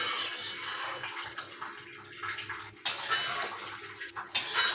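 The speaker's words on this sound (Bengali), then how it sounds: "এই যে দেখুন আমি ঢেলে দিলাম।" Liquid is poured into a pan while sooji cooks, giving a continuous splashing, hissing wash with a few sharper bursts, close and fairly loud, with no talk.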